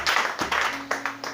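A church congregation clapping in short, rhythmic bursts of applause for Jesus during a worship service, roughly four claps close together, moderately loud.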